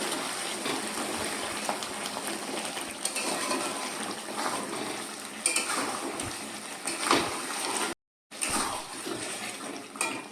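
Boiled potatoes are stirred in spiced curry masala in a pan for aloo dum, giving a soft, steady scraping and shuffling with faint sizzling throughout, briefly cut off near the end.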